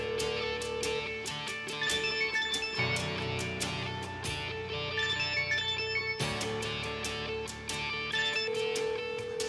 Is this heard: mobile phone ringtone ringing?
yes